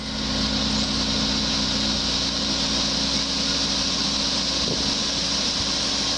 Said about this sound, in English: Turn our fan back on, set it at 3/4 speed. Takes a second for it to spool up.